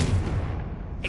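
A Confringo spell blast in a wizard video game lands as a deep, rumbling boom that fills the whole moment. A brief brighter burst flares near the end.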